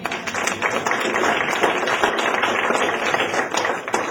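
Audience at a high school forensics showcase evening clapping, a dense steady wash of many hands applauding throughout, fairly loud and even with no pause.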